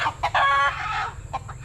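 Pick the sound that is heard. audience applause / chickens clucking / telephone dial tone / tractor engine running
chickens clucking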